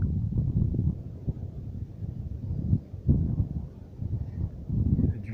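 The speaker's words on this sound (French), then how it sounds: "Il y a du vent." Mountain wind blustering against the microphone outdoors, a continuous low roar that rises and falls in gusts, loud and close throughout.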